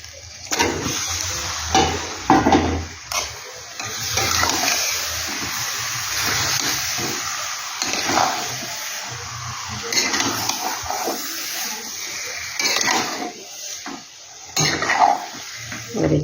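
Yogurt-and-chili-marinated chicken drops into a hot pan and fries, with sizzling bursts and the clatter of a utensil stirring against the pan, close and moderately loud.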